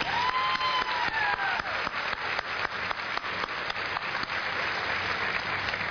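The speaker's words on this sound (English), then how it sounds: "Now let's give them a round of applause." Sustained applause from a large audience at a 2007 college graduation ceremony, steady dense clapping that fills the hall with a few sharper individual claps standing out throughout.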